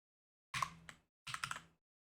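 Typing on a computer keyboard while writing code, heard as two short, separate bursts of close, crisp key clicks with silence before, between and after them.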